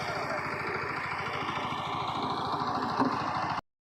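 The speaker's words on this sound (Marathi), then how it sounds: "ट्रॅक्टरचा आवाज येतात बोलताना" A tractor engine chugs and idles throughout with a regular low throb, fairly close, on a farm during rice transplanting, with faint voices mixed in before it cuts off abruptly.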